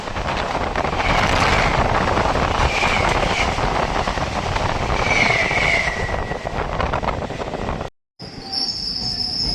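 A local train on the Bidhannagar Road to Naihati line rolls into Dum Dum station, a loud steady rumble of wheels on rails with drawn-out metallic wheel squeal, broken by a brief dropout before a high whine resumes.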